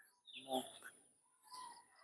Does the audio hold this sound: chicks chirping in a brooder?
yes